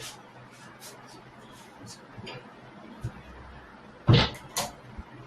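Someone shuts an indoor door in a home: one sharp, loud thud near the end, then a lighter knock, against faint room noise and quiet background voices.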